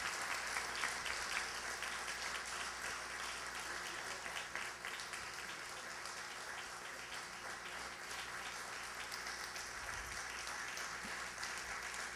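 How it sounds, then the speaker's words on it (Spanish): Audience applause at a municipal civic medal ceremony in Miraflores, sustained, even clapping from a roomful of people that continues for the whole stretch at a moderate distance. "Felicitamos con un fuerte aplauso"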